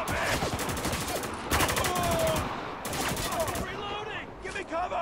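Gunfights in Spec Ops: The Line: several loud automatic bursts in quick succession, each lasting around a second with short gaps between, and a voice calling out faintly beneath the shooting.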